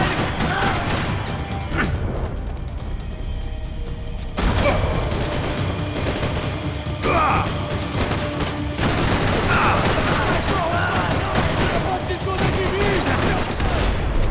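Rapid bursts of gunfire from the video game Max Payne 3, with sustained automatic shooting and sharp explosive hits layered densely throughout, loud and close.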